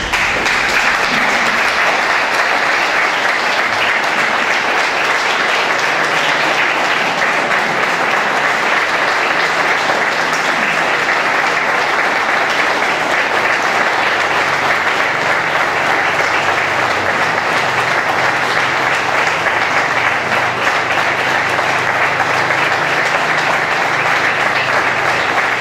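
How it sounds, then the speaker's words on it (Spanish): Long, loud, sustained applause from a large indoor crowd welcoming volunteer firefighters at an evening celebration of their day, dense even clapping with no break. "Recibamos con un caluroso aplauso a nuestro cuerpo de bomberos voluntarios."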